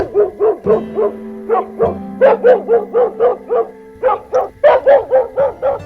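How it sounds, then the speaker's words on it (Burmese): A dog barks in a quick, steady series of sharp, loud, close yelps in two bursts, over a sustained low musical tone in an animated folk tale. "ချူတစ်စွန့်ပစ်လိုက်တဲ့ခွေးကတတိတ်ပေးပြီးဟောင်းလိုက်လို့"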